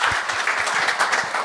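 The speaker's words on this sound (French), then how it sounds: "bonne main d'applaudissements" An audience at a stand-up comedy gong show gives a first-time comedian a brisk burst of applause, close, dense clapping with a few louder individual claps, briefly sustained.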